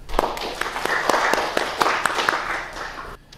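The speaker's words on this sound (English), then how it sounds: "let's give everyone uh, a round of applause" Applause from a panel audience at a university event, a steady patter of many hands clapping close by for about three seconds before stopping abruptly.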